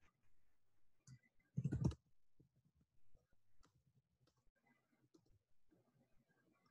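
Faint, close clicks of a computer keyboard come in short irregular bursts as a command is typed in a quiet room, with one louder cluster of keystrokes partway through.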